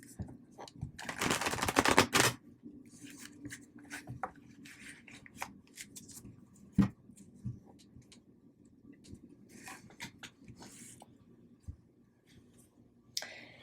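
A burst of tarot card shuffling riffles loudly near the start, followed by scattered taps and clicks of cards being handled on a table.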